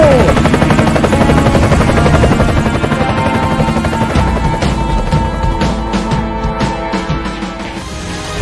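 A video game helicopter roars loud and steady with a thick, chopping rotor drone and engine whine that fills the whole scene, dominating the mix with no speech over it.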